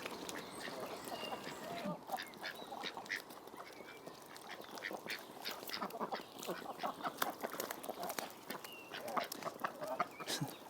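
Several ducks quack in a busy, overlapping chorus close by, with sharp repeated calls throughout and no clear talking.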